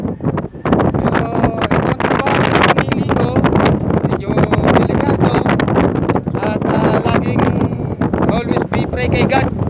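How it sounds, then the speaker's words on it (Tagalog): Strong wind gusts roaring and buffeting a microphone atop a tall tower in Tagaytay, a loud, continuous rushing blast that never lets up for the whole stretch. "Narinig nyo naman yung hangin. Napakalakas ng ampas ng hangin."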